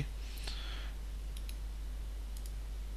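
Mouse clicks on a Windows OK button, a couple of tiny sharp clicks close to the microphone over a steady low hum and faint background noise.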